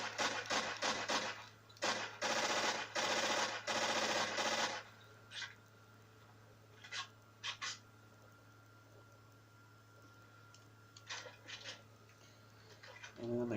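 Mini Uzi submachine gun fire in Call of Duty: Modern Warfare 2, loud rapid bursts packed into the first seconds, then a few short, quieter bursts spaced apart over a low steady hum.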